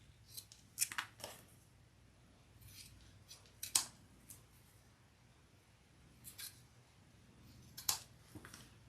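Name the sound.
scissors trimming bag connectors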